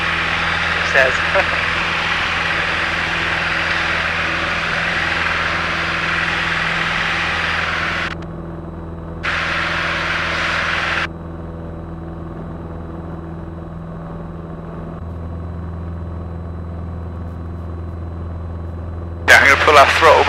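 Steady, loud drone of a light aircraft engine in a climb after takeoff from Old Sarum, continuous and close, briefly dropping away and returning, with short spoken remarks over it.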